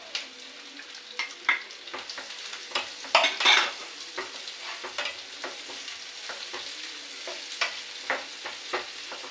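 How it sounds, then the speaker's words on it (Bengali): Chopped onion fries in a pan under a soft, steady sizzle while a spoon stirs it, with irregular scraping clicks and knocks close up and no voices. "এবারে দেবো পেঁয়াজ কুচি।"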